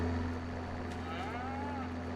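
A cow moos in Farming Simulator 25 on a farm in Monteriggioni, a drawn-out low call that rises and falls over a steady engine-like hum.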